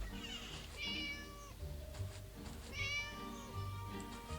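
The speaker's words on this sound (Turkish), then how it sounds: "Ha, kedinin sesi." Two drawn-out cat meows from the video game Scary Teacher 3D, each rising then falling, clear and fairly close over a steady low hum, with a pause between.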